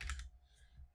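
Faint, quick clicks of a computer keyboard as a name and email are typed, a short soft burst of keystrokes in a quiet room.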